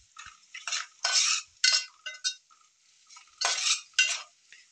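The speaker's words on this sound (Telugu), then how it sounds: "ఉప్పు వేసుకున్నాక మొత్తం అంతా బాగా కలుపుకోవాలి" A spoon stirs a salted mixture of ridge gourd, milk and egg in a bowl, giving bursts of close scraping and clinking in an irregular rhythm with short pauses between strokes.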